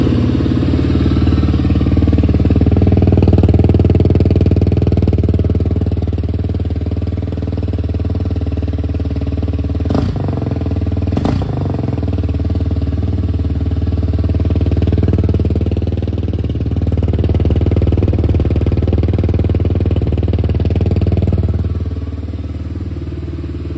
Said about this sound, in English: I'll go ahead and fire it up so you guys can hear how it sounds